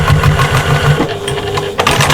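A sewing machine stitches a patchwork shopper bag straight across, its rapid needle rhythm steady and close, pausing briefly near the one-second mark and picking up again near the end.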